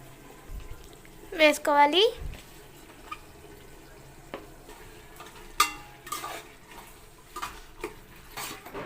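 Coriander and mint are stirred into a chicken biryani pot, with soft scraping, clinks of a spoon against the pot and a faint sizzle, in short bursts amid quiet stretches where a voice speaks.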